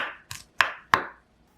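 Three sharp knife strokes through a Cheongyang chili pepper on a cutting board, spaced about a third of a second apart, each a crisp close tap with a short ringing tail, no voices.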